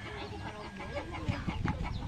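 Faint clucking from large chickens kept on a family farm in Albay, soft and intermittent over low background noise, with a few short bursts toward the end.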